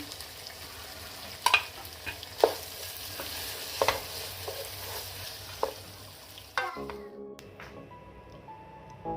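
Keema fries in a pan as ginger is added, producing a continuous soft sizzle with several sharp stirring clacks of a spoon against the pan, before the sound cuts off near the end.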